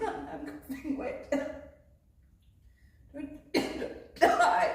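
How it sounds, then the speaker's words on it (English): A person coughs several times in quick bursts, close and fairly loud, with a brief quiet pause and a chuckle-like tail, mixed with some talking. "I'm coughing."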